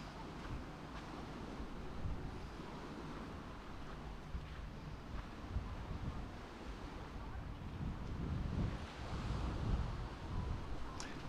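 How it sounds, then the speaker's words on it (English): Beach at Pattaya with steady waves and wind, a continuous rushing wash and low wind buffeting across the microphone, with surf swells swelling slightly louder near the end. "So that's the beach"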